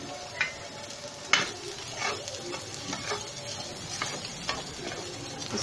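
Spices with salt and chili roast in a pan for a chicken and potato samosa filling, giving a low crackling sizzle broken by sharp scrapes and taps of a spoon against the pan, close up with no talk.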